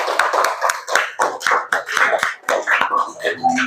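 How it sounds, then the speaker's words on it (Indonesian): Classroom of students clapping hands together, a brisk run of sharp, fairly close claps in irregular rhythm, loud and steady, with a few voices faintly mixed in near the end. "Kasih tepuk tangan"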